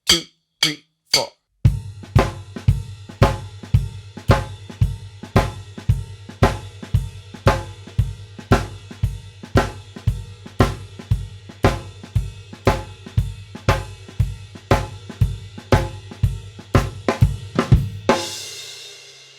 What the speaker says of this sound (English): that's the idea of that Southern Texas shuffle type feel